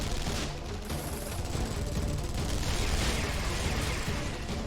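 Dense, continuous video game gunfire from a crowd opening fire at once, a sustained rattling fusillade with bursts and pops mixed in, loud and steady throughout.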